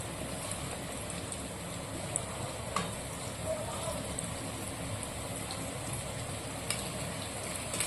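Cauliflower and bhetki fish kofta balls fry in hot oil with oil spooned over them, a steady close sizzle with a few faint clicks and bubbling and no voices.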